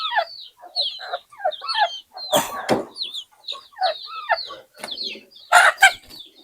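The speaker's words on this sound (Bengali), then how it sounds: "আমার আর একটা খামারে এই যে কিছু মুরগি আছে, এগুলা ছাড়ছি" Free-range desi chickens being released on a farm cluck and squawk in short, busy bursts close at hand, with a few louder calls standing out.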